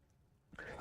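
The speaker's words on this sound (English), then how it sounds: "I didn't mean to cough." A single short, husky cough breaks out after a near-silent moment, close and fairly soft.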